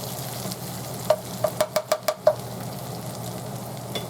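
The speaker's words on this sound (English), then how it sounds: "So now I'm just going to stir all this in." Spoon stirring refried beans in melted bacon grease in a pan, a quiet frying hiss under a quick series of six or seven sharp scraping knocks in even rhythm, close by.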